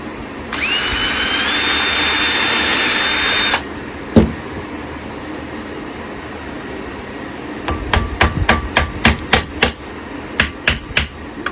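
Sharp hammer strikes on a cedar picnic table bird feeder, pins going into the wood: one early hit, then a quick series of about a dozen loud, evenly spaced blows, after a whining power tool runs briefly at the start.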